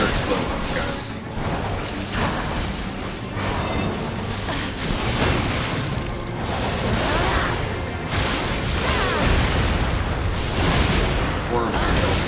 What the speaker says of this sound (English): This is one where she does her explosions